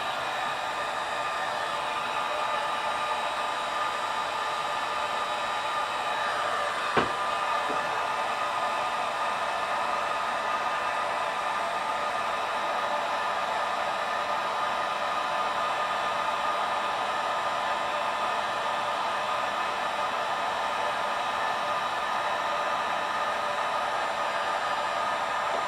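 A hair dryer on its low setting blows a steady, even rush of air while heating the mylar on a pinball playfield, holding constant for the whole stretch apart from one brief tick.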